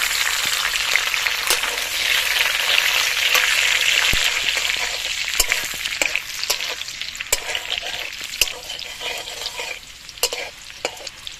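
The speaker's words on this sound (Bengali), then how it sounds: "কিশমিশটা ভেজে নিচ্ছি" Raisins frying in hot ghee, a loud, dense hiss of sizzling that stays steady up close, broken by occasional sharp clicks of a spoon against the pan as it stirs.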